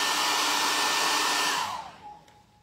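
A hair dryer blows steadily and fairly close, drying glue on a wooden chest of drawers, then its hiss winds down and fades out near the end.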